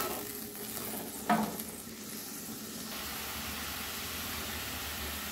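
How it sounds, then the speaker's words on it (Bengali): Water poured onto spices frying in oil for a katla fish curry gravy, a brief splash followed by a steady, moderate sizzle and bubbling that continues close and even. "এবারে আমি গ্রেভির জন্য একটু জল দিয়ে দিলাম"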